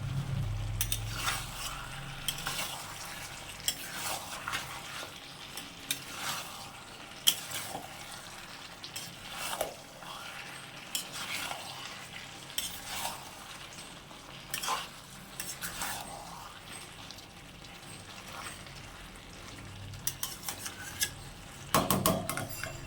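Mutton masala with potatoes sautés in a pan, a steady sizzle broken by repeated scraping stirs and clinks of a spatula against metal, close and moderately loud throughout.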